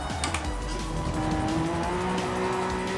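A Mazda LM55 Vision GT racing car engine in Gran Turismo Sport whines at high revs with steady pitch, one sustained pass of roaring motor noise.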